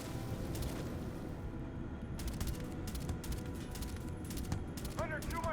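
Pistol gunfire from a 1911 handgun in the Starfield video game, a string of sharp shots scattered through dense, continuous game noise and talk.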